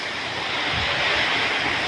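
Strong typhoon wind roars in a steady, dense rush, loud and close with no break or voice over it.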